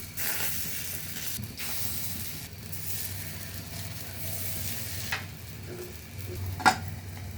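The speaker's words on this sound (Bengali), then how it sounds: "গরম হয়ে গেছে এখন পিঠাগুলো দিব আস্তে আস্তে" Chitoi pitha batter sizzling steadily in a hot pan, a continuous soft frying hiss with faint stirring and a small clink near the end.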